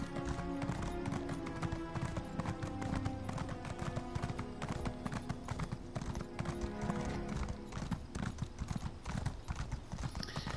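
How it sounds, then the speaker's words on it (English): Continuous rhythmic clip-clop of horse hooves in Elder Scrolls Online, fairly loud and close, layered over dense game music and background sound effects. "This is a lovely little horse there, and let's get going."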